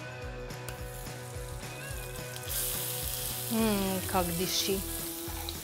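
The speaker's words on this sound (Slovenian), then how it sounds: "Čebulo razpustimo na maščobi, lahko uporabimo olje, jaz bom pa uporabila dimljeno zaseko." Chopped onion sizzles and fries steadily in melted smoked lard for a stew of cabbage and Carniolan sausage, with a soft stirring clatter through it, and a brief spoken remark near the end.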